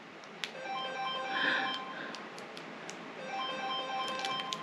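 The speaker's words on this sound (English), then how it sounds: "That's Daddy's work phone." A work phone rings in a home, its electronic ringtone trilling at moderate volume against quiet room noise, with faint clicks and no talking.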